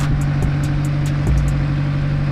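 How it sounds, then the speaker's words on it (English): A Honda S2000 engine with freshly adjusted valves idles smoothly while warming up, a steady low hum with a faint repeating ticking on top, heard close and alone without talk. "Letting the car warm up as usual. But you guys can hear it, it's very, very smooth."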